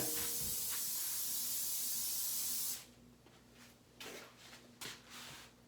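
A steady aerosol cooking spray hisses loudly for a few seconds into a sink, then stops, leaving faint clicks and light handling sounds.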